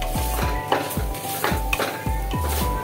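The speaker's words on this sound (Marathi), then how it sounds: "आपण आता भात टाकलेला आहे. थोडासा आपण त्याला परतून घेणार आहे" Cooked rice is sautéed in a pan, with rhythmic stirring scrapes and soft knocks repeating about every half second over a low, steady sizzle.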